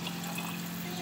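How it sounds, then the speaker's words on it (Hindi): Water pours into a pot of sambhar during cooking, a steady close trickle and splash that runs continuously under a low background hum. "वाटर कम लग रहा है, मैं थोड़ा और ऐड कर रही हूँ"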